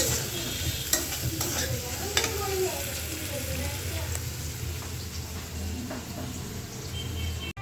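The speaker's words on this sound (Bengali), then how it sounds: "আর এদিকে পেঁয়াজটা ভাজা ভাজা করতে থাকি।" Onions for biryani sizzle steadily in hot oil while a utensil scrapes and stirs the pan in irregular strokes, close up, with a voice speaking at times.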